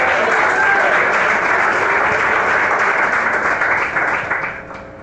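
A church congregation claps hands together in a full, continuous burst of applause with some crowd voices underneath, easing off slightly near the end.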